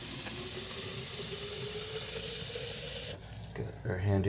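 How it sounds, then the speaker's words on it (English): Water pours into a ceramic pitcher with a steady, faint rushing splash for about three seconds. The flow cuts off, and a few soft clinks and handling noises follow. "Add our water."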